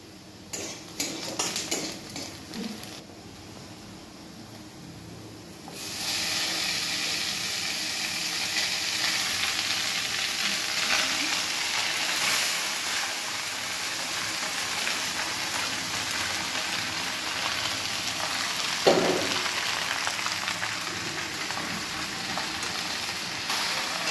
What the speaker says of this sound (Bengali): পেঁয়াজগুলি খানিক লাল হওয়ার পরে এখন চাউমিন দিয়ে দেব